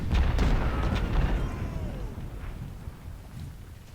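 Cannon and rifle volleys from Union lines opening fire on advancing Confederates at Shiloh in Ultimate General: Civil War, several close booms and cracks at the start that roll off into a long fading rumble.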